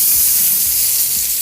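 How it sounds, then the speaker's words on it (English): Hot oil in a smoking-hot pan sizzles loudly and steadily as brisket sears, a continuous bright hiss with no talk over it. "We're going to hear the sizzle."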